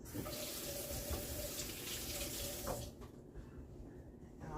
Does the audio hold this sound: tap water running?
yes